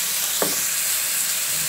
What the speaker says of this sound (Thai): เอาแครอทลงไปผัดนะครับ